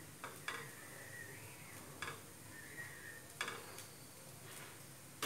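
A spoon stirs poha with salt in a pan, making soft scraping and a few light clinks against the metal at intervals over a faint background hiss.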